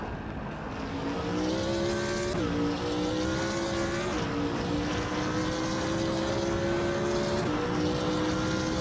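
Several race cars, including a 1994 Mercedes C 180 DTM, drone steadily through a racing video game, engine pitch rising and resetting with gear changes as the cars pass in a continuous, loud, close roar.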